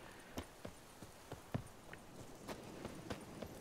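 A horse's hooves clip-clop at a steady walking pace in the video game Witcher 3: Blood and Wine, each step a light, quiet knock in an otherwise calm scene.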